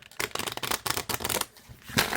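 A round oracle deck of cards is given an overhand shuffle, a quick flurry of soft papery slaps and riffles in uneven bursts, close and fairly quiet, with no talking.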